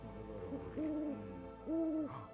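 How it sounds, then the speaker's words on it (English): Owls hooting in a series of drawn-out, wavering calls, two longer and louder hoots standing out among softer ones, heard alone at moderate level. "I release the owls."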